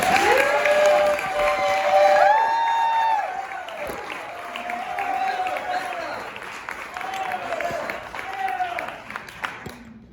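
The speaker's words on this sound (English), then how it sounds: "heavy duty applause right now for Rebecca Anderson" A crowd at a Story Serenade storytelling show at Madame Zuzu's claps for Rebecca Anderson, with whoops and cheering voices riding over the applause before it gradually thins out and fades.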